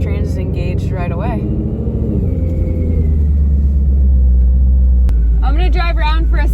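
Deep, steady engine rumble from a Dodge Hellcat idling with the transmission in gear, close and loud, with someone talking over it at the start and end.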